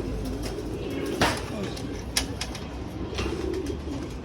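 Outdoors after a typhoon, a dove or pigeon coos at close range over a busy background of rustling and bird calls, with a couple of sharp knocks breaking in.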